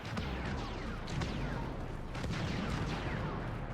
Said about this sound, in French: Et là, boum boum, explosion.